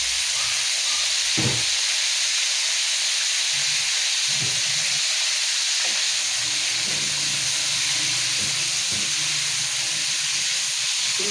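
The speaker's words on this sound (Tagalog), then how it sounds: "Pinipirito ko muna kasi ang sitaw." String beans (sitaw) frying in a pan with browned garlic, a steady close hiss of sizzling oil with a few faint knocks of a utensil, no talking.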